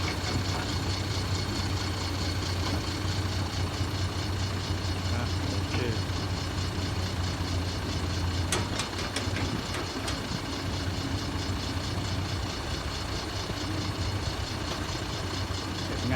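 A truck engine idles steadily at a 38-rai land-filling site worked by tractor-trailers and dump trucks with trailers, a low continuous rumble lasting throughout with a few brief clanks midway.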